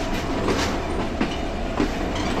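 Padma Express train pulling slowly out of Kamalapur railway station at night, its wheels giving a steady rolling rumble with faint rhythmic clicks over rail joints, close and continuous with no talk.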